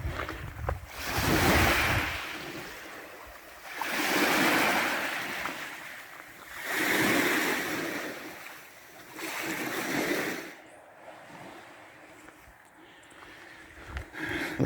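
Small waves wash onto a little beach on Denman Island, each surge swelling and receding in a slow, steady rhythm of four broad swells, close and fairly loud, with light wind and no voices.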